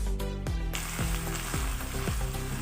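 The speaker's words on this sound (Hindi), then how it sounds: "उसके अंदर मैंने आधा कप ऑयल ले लिया और साथ ही मैंने अपनी बारीक चॉप की हुई प्याज जो कि मैंने ग्राइंड भी कर ली है उसको मैंने डाल लिया" Finely chopped, ground onion sizzles loudly in half a cup of hot oil for a chicken shorba, a steady crackling fry with regular low thumps recurring throughout.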